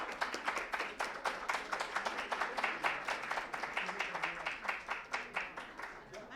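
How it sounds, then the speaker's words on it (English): Audience applause at a coaching conference in Delhi NCR: a modest crowd claps in quick, distinct slaps, moderately near and fairly quiet, holding steady for several seconds. "Let's give a round of applause"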